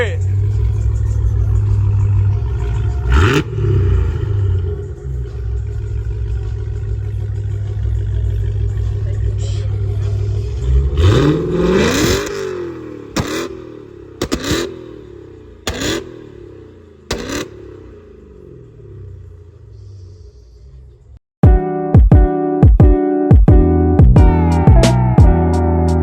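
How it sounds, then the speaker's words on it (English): A truck at a truck meet revs its engine repeatedly: loud, close surges rise and fall in a series of sharp blips, and a rapid burst of revving closes it out. A crowd talks and calls out throughout. "Tell him to rev it. Rev it, man. Come on. Let's hear it."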